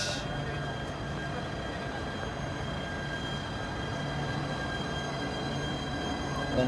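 A metro train rumbles steadily through a station with a low mechanical drone and faint high whine, moving off without any voices.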